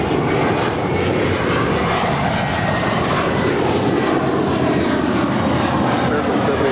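Airliner jet engines at LAX on runway 25 right: a loud, steady broadband roar with a deep rumble, unbroken for several seconds, with a radio voice underneath.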